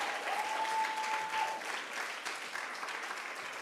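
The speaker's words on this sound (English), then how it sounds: "Give yourselves a round of applause" A room of people applauds business honorees at an evening event, with sustained crowd clapping throughout and a voice briefly audible over the start.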